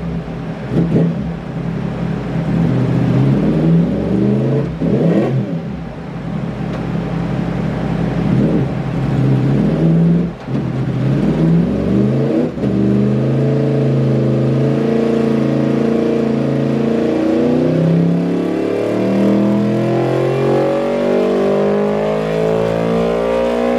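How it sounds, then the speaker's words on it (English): A 2015 Yamaha R1 motorcycle on a dyno roars loudly and continuously, its engine revving up through rising and falling sweeps with a few brief drops in between. "We're gonna put up some dyno and see what power it makes."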